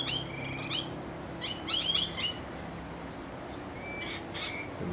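Several birds near a palm tree in Perth give loud, harsh squawking calls in bursts, with a quieter stretch in the middle before more calls near the end, over faint background hum.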